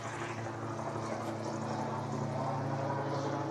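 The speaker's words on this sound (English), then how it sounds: "a helicopter flies right over us" A small helicopter passes overhead, its rotor chop a steady low whir and wash that holds fairly faint but constant throughout, with no voices.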